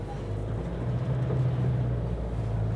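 Diesel engine of an Isuzu D-Max Blade pickup rising under throttle off-road, a steady low drone that builds slightly in loudness over a few seconds, close and continuous with no talk.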